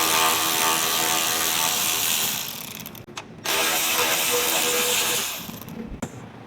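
Ratchet working a 10 mm headlight bolt loose on a Toyota Tundra (2014–2021) during fender removal, a steady close mechanical clicking that runs for several seconds with two brief pauses.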